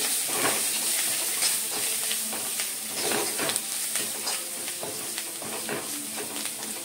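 Maggi noodles with masala powder, coriander and chopped vegetables are stirred around a hot pan, giving a steady sizzle with repeated scraping strokes close up throughout, no talking.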